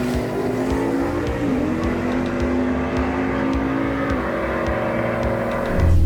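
A 1969 Camaro with a 540 big block Chevrolet V8 and turbo 350 transmission, loud steady engine roar with a rising rev near the end, heard close with no talking.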